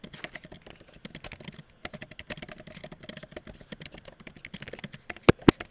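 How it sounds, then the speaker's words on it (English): Rapid, irregular key clicks of a computer keyboard as a sentence is typed, steady and fairly close, with a couple of sharper, louder keystrokes near the end and no voices. "So I'm simply typing this sentence as one complete complex sentence."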